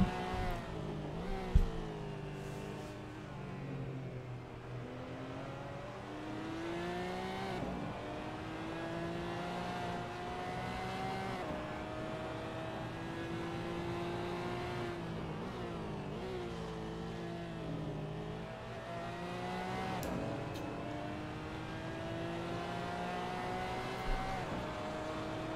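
Onboard engine of the Haven Racing Porsche in a GT4 sim racing game at Interlagos, a continuous close drone that climbs through the revs, drops at each gear change and climbs again, heard alone.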